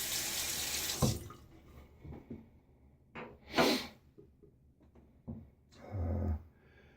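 Tap water runs in bursts during a wet shave with a Merkur 38c HD safety razor and Feather blade, with several short close gushes and splashes from a sink faucet between quieter pauses.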